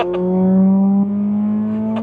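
A 2006 Acura TSX engine revs in a sustained rise and hold, loud and close, with steady harmonic engine tones and a brief dip midway.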